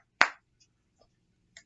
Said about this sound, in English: my clapper is overly sensitive, so this clicking